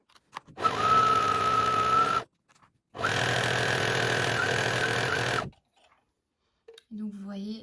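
Sewing machine stitching a rolled hem on jersey fabric for a T-shirt, running in two steady continuous bursts of about two seconds each, close and loud, with a short pause between them and a brief voice afterward.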